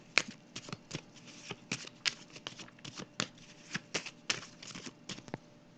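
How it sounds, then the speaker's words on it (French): Tarot cards are shuffled and drawn, giving a quick run of crisp, papery riffles and slaps at close range, steady throughout with no voices. "Je vais piger une carte pour cette zone-là"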